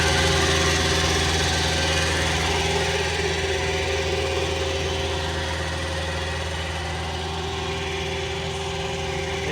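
A tractor hitched to a slurry tank runs on a farm, its engine holding a steady mid-pitched drone and vibration throughout, close by, with no one speaking.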